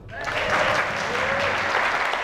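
A youth camp audience breaks into applause, a dense, continuous wash of clapping that starts abruptly and holds steady throughout.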